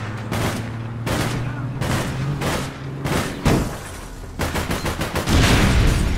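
Gunfire in the video game APB Reloaded: a series of sharp, loud shots spaced about a second apart, then a quick rapid-fire burst and heavier blasts toward the end, close and prominent.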